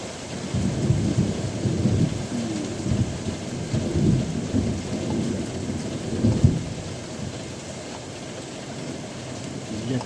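Heavy rain pours steadily during a morning thunderstorm while low thunder rumbles swell and fade beneath the constant hiss, with no speech.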